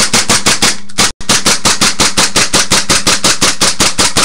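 KWA KP45 Tactical airsoft pistol emptying a magazine: a fast, steady string of sharp, loud snapping shots with one brief gap, then the rapid firing resumes, close and alone.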